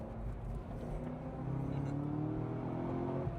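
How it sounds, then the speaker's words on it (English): A car engine strains and hums steadily while driving, its tone slowly rising as it labours, a moderate continuous drone with no voices over it. "Something is struggling on the front. The engine is not really liking it. You can hear that."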